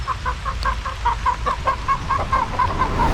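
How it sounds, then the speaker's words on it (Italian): Hens in a farmyard chicken coop give a steady run of rapid, rhythmic clucks close by, about a dozen birds' worth of chatter layered over a low background rumble. "Questo è il nostro pollaio dove teniamo circa una decina di galline"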